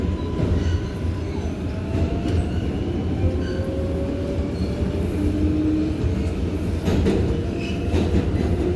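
New York City R142A 6 local subway train running between Brooklyn Bridge and 149th Street, with loud continuous rumbling wheels, clickety-clack and rising motor whines heard from inside the car.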